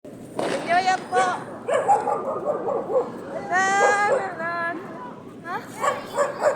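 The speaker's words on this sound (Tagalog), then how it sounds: "May aso?" A dog barks and yips repeatedly at close range, excited whining barks in a steady run with brief pauses, heard over background noise.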